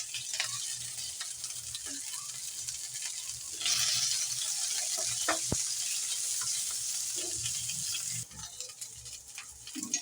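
Cabbage, potato and green chili hit hot oil with cumin seeds, setting off a continuous, loud hiss and sizzle close by, with occasional stirring clatters and a brighter surge of frying partway through.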